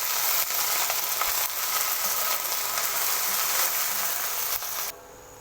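Ginger garlic paste sizzles loudly in hot oil with deep-fried red onions as it is stirred, giving a steady dense crackling hiss that cuts off abruptly near the end.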